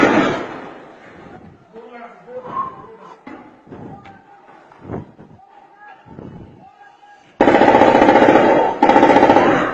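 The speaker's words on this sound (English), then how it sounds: "You can hear shots." Nigerian army gunfire at the home of the leader of the Justice of Biafra: after several seconds of voices and scattered thuds, loud dense rapid bursts of shooting crash in close and continuous for the last two seconds.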